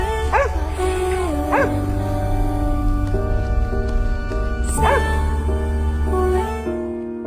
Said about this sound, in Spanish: El perro se apresuró a acudir al lado del hombre, ladrando sin parar